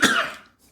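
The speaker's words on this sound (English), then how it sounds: "He still can't shake that cough." A single short, dry cough from a man who has been ill for a week, close and fairly loud, fading quickly into quiet.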